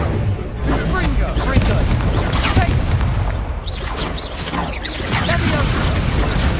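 A Confringo fire-blast spell in Hogwarts Legacy on PS5, loud booming bursts and crackling over a dense, continuous game soundscape, with spoken voice mixed in.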